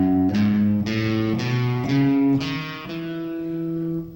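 Clean electric guitar picks a short scale across two strings, about six distinct notes in an even rhythm, each ringing clearly and close, with the last note sustaining and no talking.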